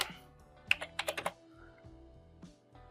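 A formula is typed on a computer keyboard: a quick burst of about six close key clicks, then quiet, and one more isolated keystroke later, over soft background hum.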